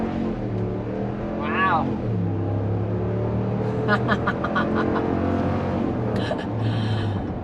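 RAM 1500 Rebel V8 pickup accelerating hard from a toll booth, its engine a deep, steady drone with harmonic tones rising briefly, heard from inside the cab as a woman exclaims and laughs.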